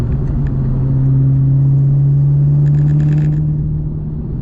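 A 2003 Ford Mustang Bullitt with a swapped Cobra engine rumbles deeply, droning loudly and continuously with a low hum, no voices, holding constant throughout.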